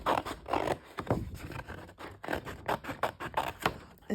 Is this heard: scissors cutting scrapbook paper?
yes